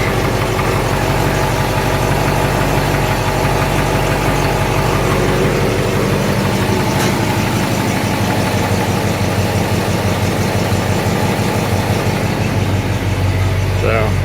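A V8 engine fitted with an inexpensive Walker SoundFX universal muffler idles steadily and loudly at close range, a low rumbling drone with a faint slight knock running through it.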